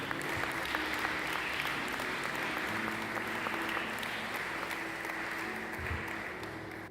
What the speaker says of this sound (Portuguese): Vamos aplaudir mais uma vez o Senhor.